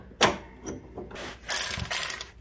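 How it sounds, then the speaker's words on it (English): Brake pedal on a Craftsman DYS4500 riding mower pushed down and locked, giving a sharp mechanical clack followed by a rattling ratchet-like clicking burst, close and fairly loud. "release the tension off your belt by pushing the brake down and locking it"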